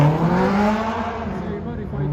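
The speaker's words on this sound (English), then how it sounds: "He's going to launch that car. That engine with the turbo is going to pop and bang, probably, and spin his wheels." A modified turbocharged car launches hard with its wheels spinning at a motor show event, a loud engine note rising and then easing, with a rasping exhaust under crowd ambience.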